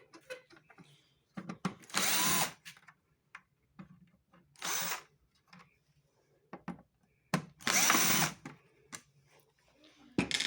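A cordless drill backs screws out of a washing machine in repeated bursts of high whirring, separated by quiet gaps with small clicks and handling noises nearby.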